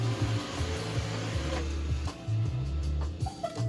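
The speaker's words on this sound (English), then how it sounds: "tell Roomba to go home" A Roomba robot vacuum rolls nearby, its quiet motor hum broken by repeated rhythmic bumps and shifts in tone as it moves and turns indoors.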